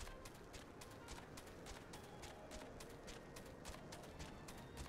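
Steady hoof clip-clops from a horse in Final Fantasy XIV, pattering rhythmically under a dense, busy wash of background noise.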